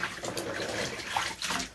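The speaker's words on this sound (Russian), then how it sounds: "Теперь нам надо слить эту воду" Water drains from a bathtub after a wool blanket is washed in it, a close gurgling, sloshing flow with small splashes and no voices.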